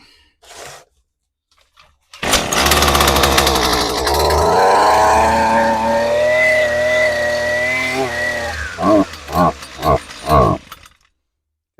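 A Husqvarna string trimmer's small two-stroke engine fires after a pull and choke, revs up into a loud buzzing whine held for several seconds, then drops into a series of rapid throttle blips before cutting off.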